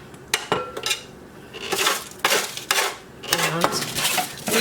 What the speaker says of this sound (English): these are just all gonna go into this little mixing bowl I got over here